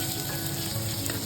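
Bhola fish frying in a pan, a steady close sizzle and crackle of hot oil filling the short stretch with no voices.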